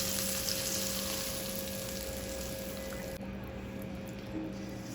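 Hot oil tempering with red chilli powder being mixed into handvo batter, a steady close sizzle and frying hiss that runs throughout without talk.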